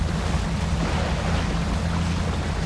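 A truck in the video game Spin Tires ploughs through deep water, giving a steady broadband wash and sloshing rush over a low engine drone, even and continuous, with no voices.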